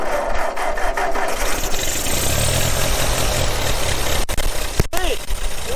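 A 1944 Ford tractor engine cranks and runs with a rough, loud mid-pitched idle and irregular knocking, close by, with a couple of sharp clanks near the end.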